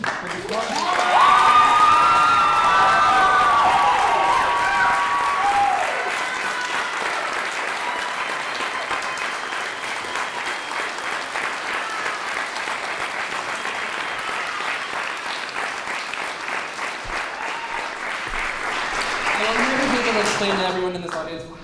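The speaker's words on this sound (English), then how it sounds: "one more round of applause" Sustained applause from a large audience after a film Q&A session, loud and steady for about twenty seconds, with scattered cheers and voices in the crowd and a few whoops near the start.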